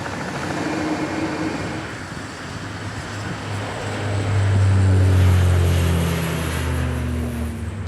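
Aircraft flying over dangerous wreck sites in the Oslo Fjord, a loud continuous engine roar with broadband rumble that swells in the middle and then eases slightly, with no voices.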